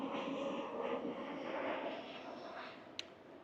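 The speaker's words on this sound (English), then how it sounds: "It is a Virgin Airlines aeroplane." A Virgin Airlines aeroplane passes overhead above a city street in Cairns, a faint, steady engine roar that slowly fades, with a brief sharp click near the end.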